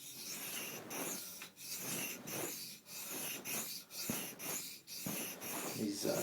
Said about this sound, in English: I'm rocking the knife up to hit that whole edge